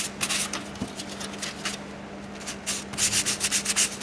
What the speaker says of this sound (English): Let the sandpaper do its work.